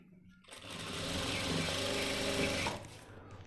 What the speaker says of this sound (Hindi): उसके बाद ऊपर से सिलाई ले लेंगे।